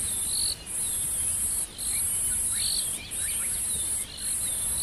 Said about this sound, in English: Birds are just waking up now.